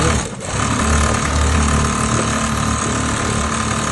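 A Voltex 669 industrial double-foot sewing machine for bags, leather jackets and strapping runs at 3000 rpm, a loud, steady mechanical hum and rapid continuous rattle close by, with no talk.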